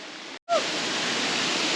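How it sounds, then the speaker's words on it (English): Steady broadband rush of a waterfall in Tasmania, loud and continuous, briefly cut by a short gap with a faint chirp before resuming. "it's probably some of the best falls we've seen so far"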